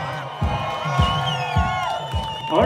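Rodeo crowd at the PBR World Finals, round 1, cheering and whooping in repeated loud swells, with a steady roar of voices and shouts between the bursts.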